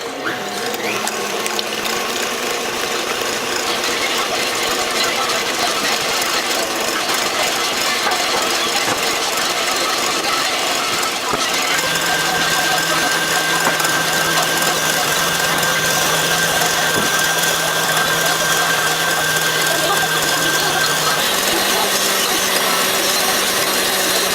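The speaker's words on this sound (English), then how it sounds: "into the stand mixer fitted with the whisk attachment. And then turn it on to the number 4 speed for 3 minutes." Stand mixer with a whisk attachment running at speed 4 while making meringue, a loud, steady mechanical whir and gear drone that holds throughout with a faint high whine in the later part, no voices.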